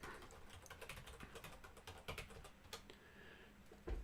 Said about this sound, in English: I'll just type that in the chat.